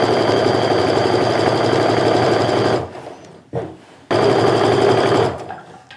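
A sewing machine running a quarter-inch seam on a sling bag, a loud, close, fast needle chatter that stops, gives one brief burst, then runs again before slowing to a halt.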